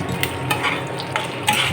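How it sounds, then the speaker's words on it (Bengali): Onions frying in a pan for chilli chicken, a continuous sizzle with a few brief scraping stirs, close and fairly loud, no voices. "পেঁয়াজগুলো ভাজবো।"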